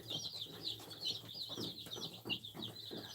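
Baby chicks huddled on a farm chirp in a dense, continuous flock of high peeping calls, close and steady, with soft rustling beneath.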